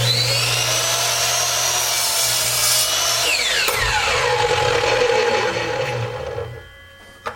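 A WEN 10-inch sliding compound miter saw cuts old scrap flooring. A loud, steady high whine runs as the blade bites, the pitch drops as it slides through, and it spins down to quiet with a final clack.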